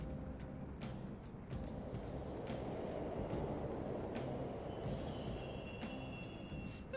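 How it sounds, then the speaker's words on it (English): Subway trains running through Mementos in the video game Persona 5 Royal, a low continuous distant rumble with repeated faint clacks and a thin whine near the end, heard alone without voices. "trains are totally running"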